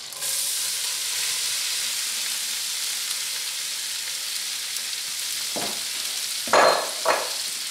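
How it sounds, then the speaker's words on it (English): Vegetables fry in garlic paste in a pan, a loud, steady close-up sizzle and hiss throughout, with a few clattering tosses near the end, no voices. "Then add the beautiful vegetables."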